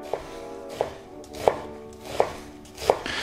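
A knife finely chopping onion on a board, five sharp knocks spaced at a steady, unhurried rhythm, close and clear with no voices.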